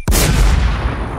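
Loud, close burst of gunfire in a shooter video game, one heavy blast followed by a long booming decay, with no speech.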